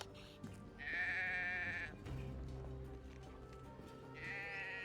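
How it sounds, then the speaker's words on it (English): Sheep bleating in the video game Drova: two long, loud bleats, the second cut off at the end, over steady low game ambience with brief talk between them. "The sheep contentedly chews on the blade of grass."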